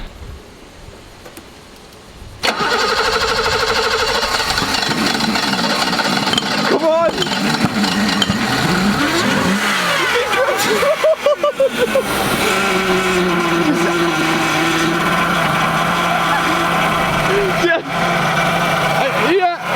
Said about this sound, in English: The E24 is running